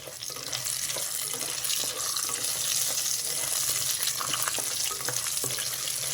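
Urad dal lentils and cumin seeds fry in oil with a dense, continuous sizzle and crackle, close and steady throughout, with faint pops scattered across the hiss.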